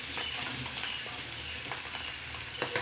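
Anchovies sizzle steadily in hot oil in a pan as they are flipped. A dense, continuous crackle runs throughout, with a few louder spatters near the end.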